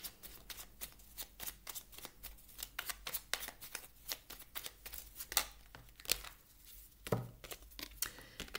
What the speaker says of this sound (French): Je vous tire une dernière petite carte du petit oracle de la mission de vie.